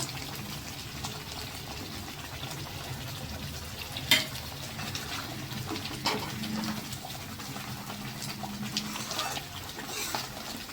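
Matar paneer curry of peas and paneer, finished with green garlic, simmers and sizzles steadily in a pan, with a few clinks and stirring knocks over the bubbling.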